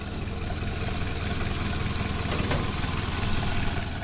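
A 1930 Ford Model A engine idles with the hood open, its carburetor adding a steady rushing hiss to the even, close, rumbling beat of the small motor.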